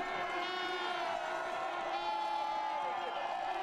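Spectators cheer a cross-country skier reaching the finish line of a 1km freestyle sprint qualification, a sustained roar with whoops and clapping, heard under an announcer's commentary.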